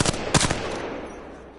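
Video game gunfire rings out as a short burst of rapid shots that then trail off into a fading echo, loud and close, with no talk.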